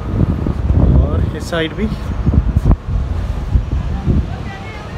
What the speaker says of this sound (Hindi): तो अच्छी हवा चल रही है